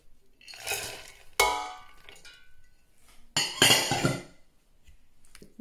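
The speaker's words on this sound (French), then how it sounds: "Donc pour commencer notre soupe, on va tout mettre dans notre marmite." Ingredients and spices for Moroccan harira going into a cooking pot: a few separate clinks and metallic clatters with sharp bright hits and short rattling pours between quiet gaps, close by and fairly loud.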